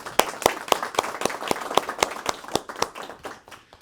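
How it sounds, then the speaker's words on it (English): Audience clapping for team members at a corporate CRM event in Sandton, South Africa: a fairly sparse, evenly paced run of sharp claps, close and distinct, continuing throughout and tapering slightly at the end. "let's give them a round of applause"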